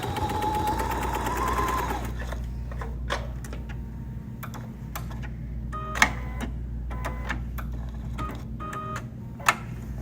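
Sewing machine running along a fabric seam for a wall bucket project, a steady motor whir at first, then stopping, followed by scattered clicks and taps as the fabric is handled.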